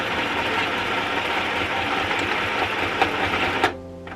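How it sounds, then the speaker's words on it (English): A sewing machine stitches steadily at a constant whirring pace, then knocks over a pin with a sharp click and jolt just before stopping. "I guess I'm just gonna sew over the pin."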